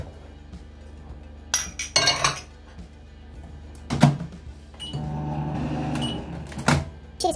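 A microwave oven runs with a steady hum while chocolate, one bowl with vegetable oil and one without, melts inside. Sharp glassy clinks and a door clunk punctuate the run, all close and fairly loud.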